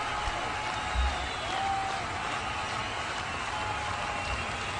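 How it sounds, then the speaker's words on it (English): Faint, distant applause from teammates at an outdoor T20 cricket festival match, a steady thin patter of clapping that stays low and even throughout. "Applause all around by his teammates."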